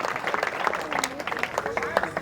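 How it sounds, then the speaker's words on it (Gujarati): Audience clapping at a village idol-consecration festival folk-music gathering, a sparse, uneven patter of hands under a voice speaking over a sound system, fairly quiet and intermittent. "એને એકવાર જોરદાર તાળીઓના ગગડાટથી વધાવી"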